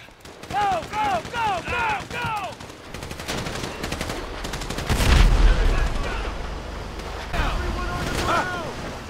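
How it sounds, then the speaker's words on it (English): Rapid automatic gunfire rattles through a bank heist shootout in a video game, bursts crackling over sirens and swooping tones, with a heavy boom and rumble midway and shouting voices mixed in. "So I guess we're shooting our way out of here!"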